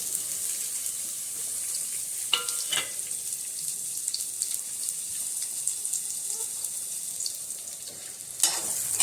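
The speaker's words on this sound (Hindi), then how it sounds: "अब मैं इसमें ऑयल डालती हूँ और प्याज डाल देती हूँ भुनने के लिए।" Onions sizzle and crackle steadily in hot oil, with a few louder pops and scraping stirs over about nine seconds; no one speaks.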